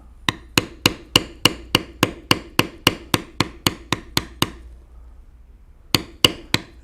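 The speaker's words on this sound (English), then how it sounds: "I'm now using the B202 right to lightly bevel these wing feathers." A B202 leather beveling tool is struck with a mallet while beveling wing feathers on a carved leather owl, giving a close, crisp series of about fifteen evenly spaced taps, a pause, then three more.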